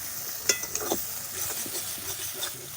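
Fried masala with salt and turmeric is added to a pan for an egg curry and stirred, making a close sizzle with a few sharp spoon clicks and scrapes early on, then a steady hiss.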